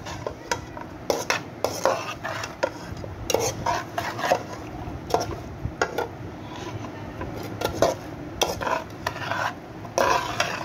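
Stinging catfish (shing fish) with oil and small potatoes is mixed by hand in a metal pot, giving repeated scraping, squelching stirs and clinks at an uneven rhythm, close and alone.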